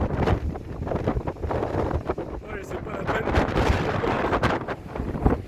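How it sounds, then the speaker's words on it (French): Strong gusting wind roars around a camper van, buffeting the microphone in heavy continuous rumbling waves, with someone speaking briefly in French over it. "Ça souffle tellement que des moments j'arrive même pas à avancer."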